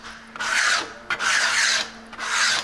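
A hand tool scrapes cast tin and lead sheet metal for organ pipes in long, loud, rasping strokes, three of them in steady rhythm with brief pauses between, close up and without speech.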